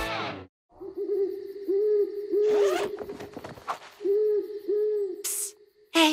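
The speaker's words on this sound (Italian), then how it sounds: "Sta tranquillo, Alex, è solo un gufo che bubola." A cartoon owl hoots at night, several short, clear, repeated hoots in a steady rhythm, with a brief rustling swish in the middle and another at the end.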